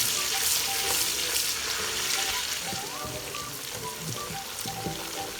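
Onions frying in ghee with mustard and fenugreek seeds, a steady close sizzle with crackles and occasional stirring scrapes, as gobi gosht is cooked.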